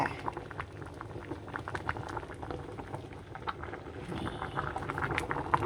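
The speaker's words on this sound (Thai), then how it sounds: "เริ่มเดือดแล้ว" Broth for a bamboo shoot curry bubbles at a steady boil in a pot, with a dense, continuous burble of popping bubbles that swells slightly louder toward the end, with no talking.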